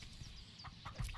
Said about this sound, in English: There's a chicken right here!